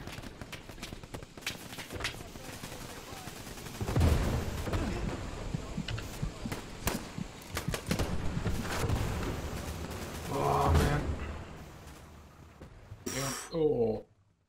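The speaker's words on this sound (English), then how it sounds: "Assault tank shooting at us." Assault tank shooting in the Hell Let Loose clan battle, with heavy booming shots and broadband blasts among dense gunfire, while players talk over the fighting throughout.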